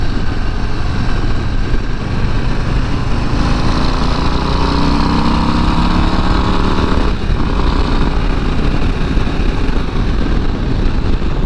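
A Harley-Davidson Low Rider ST motorcycle engine idles close and loud, a steady, continuous rumble that holds throughout with no voices.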